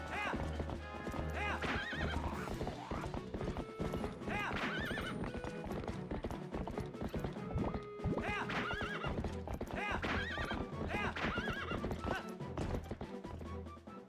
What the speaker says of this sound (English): What are you doing, horse?